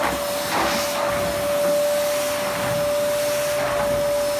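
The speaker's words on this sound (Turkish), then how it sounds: "Gayet hoş bir süpürge hoşuma gitti." A Fantom vacuum cleaner runs continuously nearby, a loud steady whine with a sharp constant tone over broadband airflow hiss, with no talking.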